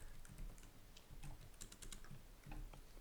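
Fingers tap quickly on a computer keyboard in a quiet room, making soft, close clicks in short uneven bursts.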